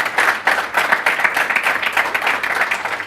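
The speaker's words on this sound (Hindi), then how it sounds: "एक बार जोरदार तालियां हो जाए" Audience applause for a talk with mountaineers, a loud, dense spell of clapping from a crowd holding steady for the whole stretch.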